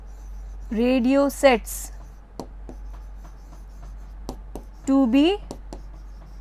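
Chalk or marker tapping and scratching on a classroom board in a short series of quick strokes, close and crisp, with a teacher speaking in bursts between them.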